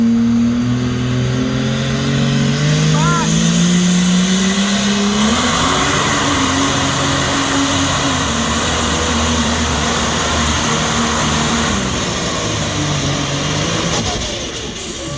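A Duramax diesel pickup truck at a truck pull, engine roaring loud and close at high RPM, pitch climbing and holding a strained drone for over ten seconds before easing off at the end.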